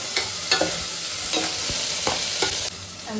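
Tomatoes tipped into potatoes frying in a pan, a steady sizzle running throughout with regular stirring scrapes at close range, no voices.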